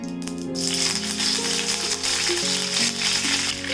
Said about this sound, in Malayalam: ഇനി നമുക്ക് ഇതിലേക്ക് നമ്മുടെ കറിവേപ്പില ചേർത്ത് കൊടുക്കാമേ